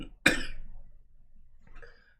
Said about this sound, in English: you can see I still have a bit of a cough